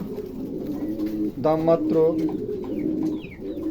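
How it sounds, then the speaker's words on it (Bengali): A male fancy pigeon coos close by in soft, throaty rolling bursts while someone talks over it in Bengali. "এটা নর কবুতর।"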